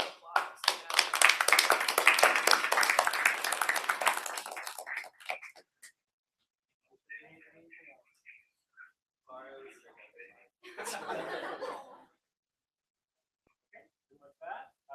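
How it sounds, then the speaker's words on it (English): A round of applause at a student senate's final meeting, dense clapping for about five seconds that then stops abruptly, followed by quiet stretches with bits of talk. "give a round of applause"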